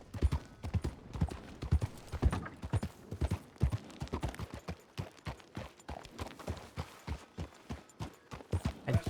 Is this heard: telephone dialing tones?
no